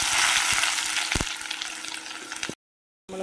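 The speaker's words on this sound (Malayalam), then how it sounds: "ഇഞ്ചി വെളുത്തുള്ളി മൂത്ത് വരുമ്പോഴത്തേക്കും നമുക്ക് അതിലേക്ക് കുറച്ച് ഉള്ളി ചേർത്ത് കൊടുക്കാം." Onion frying with ginger and garlic in a pan for a pearlspot fish curry, a loud dense hiss with a couple of utensil scrapes, then an abrupt cut to silence before the sizzle resumes.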